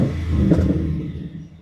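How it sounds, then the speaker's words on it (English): A deep, rumbling 5.0-litre V8 engine of a 2014 Jaguar XK blips briefly, swelling then settling back to a low idle, close by and alone. "as you can hear this engine now, if I just rev it slightly"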